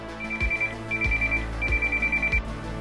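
A phone rings with a repeating electronic ringtone, bursts of tone recurring steadily over low background hum, fairly close and alone without talk.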